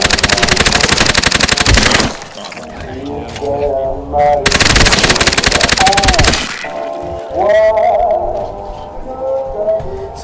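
Loud rapid-fire machine gun bursts from the Dead Fury video game, two long stuttering volleys separated by quieter stretches where a voice speaks, followed by further talk.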